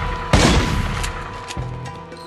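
A loud, sharp sniper shot in The Godfather II video game booms close by and rolls into a short decaying echo, and a second, softer report follows about a second later.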